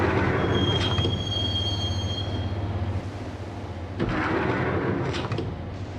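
Train ride in the video game Max Payne: a rumbling subway car rolls along with steady wheel noise and a high metallic squeal early on, then a sharp jolt and renewed clatter, with no voices.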